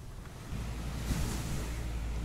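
Ocean waves wash onto the shore at sunrise in a steady, fairly close rumbling surge, mixed with wind buffeting the microphone.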